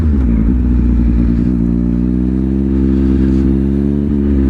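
Engine of a Triumph Speed Triple RS motorcycle running loud and close, a steady throbbing drone with the pitch lifting slightly as it revs, with no talking over it.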